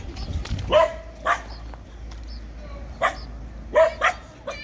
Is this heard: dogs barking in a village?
yes